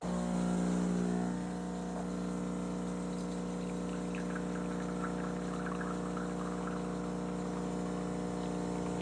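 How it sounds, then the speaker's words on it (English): The pump of a Philips 3300 coffee machine runs as a steady, loud droning hum with a tonal whine layered on top, continuous and close throughout. "The pump becomes almost noisier than the grinder."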